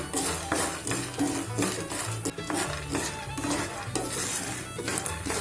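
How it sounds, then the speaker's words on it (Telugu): Corn kernels for popcorn fry in a pan, making a steady sizzle with repeated stirring and scraping strokes in an even rhythm, close and moderately loud. "ఈ విధంగా స్లిమ్లో పెట్టుకొని ఈ విధంగా ఫ్రై చేసుకుంటూ ఉండాలండి"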